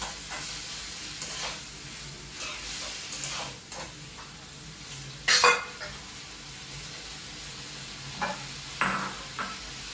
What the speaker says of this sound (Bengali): হোয়াইট সসটা দিয়ে কিছুক্ষণ নাড়াচাড়া করবো